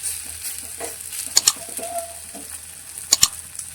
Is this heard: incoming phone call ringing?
no